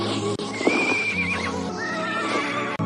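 A horse neighs as its rider dismounts, a loud, close whinny rising and wavering over a dense background, with faint hoof clops and a couple of sharp cuts in the sound.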